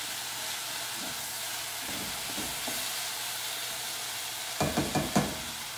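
Cashew chicken stir-frying in a hot pan gives a steady broadband sizzle throughout, with a few brief clinks and scrapes near the end.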